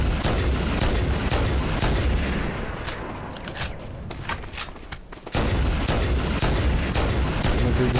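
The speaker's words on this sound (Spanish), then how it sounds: "No sé, disparos." Repeated heavy gunfire and booming blasts from Halo Custom Edition combat on the Danger Canyon or Death Island maps, loud and dense throughout with a brief lull before the shooting resumes at full intensity.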